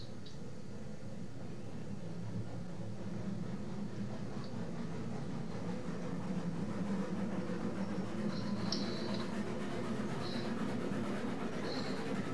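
Freight wagons roll along in the Railroads Online game, a low steady rumble with faint metallic clicks and squeaks, continuous and moderately close, no voices.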